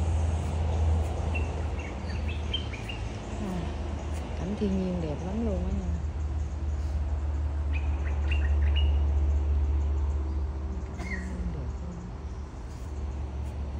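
Forest birds chirping beside the Suoi Tranh stream on Phu Quoc, several short tweets and whistled calls scattered through a steady rushing background, with a person talking over them.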